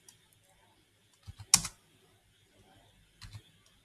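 A few keystrokes on a computer keyboard during a MySQL setup on Ubuntu Linux: a short cluster of clicks, then a sharper press, and a last pair of taps after a pause, fairly quiet and close.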